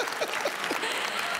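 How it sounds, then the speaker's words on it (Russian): Sparse applause from a lone audience member at a comedy club show, a handful of individual claps sounding over a roomy, noisy hall background. "мне кто-то аплодирует, один человек"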